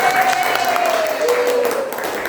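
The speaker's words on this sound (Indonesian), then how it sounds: "Tepuk tangan dulu." Audience applause at a public-service conflict-management session, a dense wash of clapping lasting about two seconds, with a sustained whistle-like tone or feedback sliding gently downward over it.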